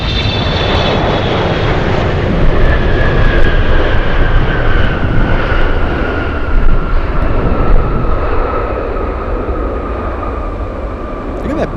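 A UPS cargo jet taking off from runway 25 left at Anchorage: a loud, steady engine roar with a high whine that slowly falls in pitch as the jet powers away.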